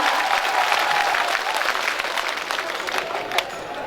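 Large crowd at a public rally near a bus stand applauding in welcome, dense steady clapping with some cheering, loud throughout.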